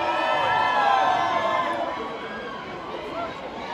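A packed nightclub crowd cheers and shouts, a loud sustained roar of many voices with whoops rising and then slowly easing off.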